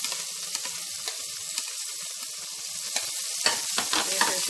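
Onions, green chillies and curry leaves fry in oil with a soft, continuous sizzle, punctuated by light spatula scrapes and taps that cluster near the end; no one speaks.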